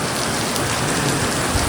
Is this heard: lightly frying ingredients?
no